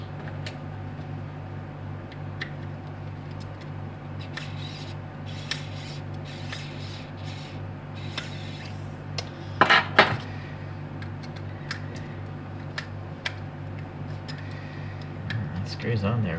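A small screwdriver works screws out of a 1/64 scale Kyosho Bentley Continental GT3 2014 diecast model, making faint repeated ticks and clicks over a steady low hum, with a sharper metallic clatter midway and someone talking at times.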